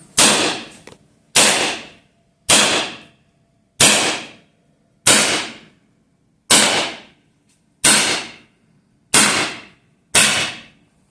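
A full-size Viper .177 high-pressure air gun firing nine sharp, loud cracks, each decaying quickly, spaced about a second or more apart in a steady rhythm, close by and without voices.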